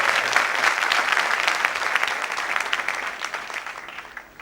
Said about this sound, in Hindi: जोरदार तालियों से हमारे